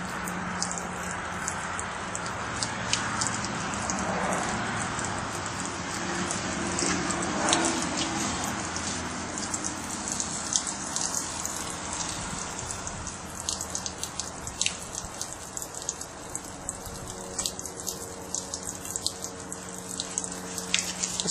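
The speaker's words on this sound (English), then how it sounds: "The water begins to flow" Water spills steadily out of an outdoor auto siphon pipe, a continuous splashing, trickling flow with scattered drips, fairly close and alone without talk.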